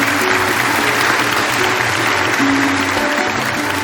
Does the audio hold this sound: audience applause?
yes